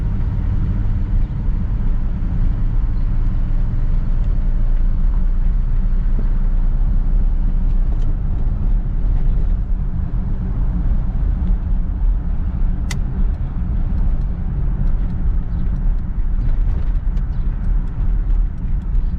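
A Chevrolet Bel Air with a 348 engine drives along, a steady close engine rumble and road noise holding loud and even throughout with no talking.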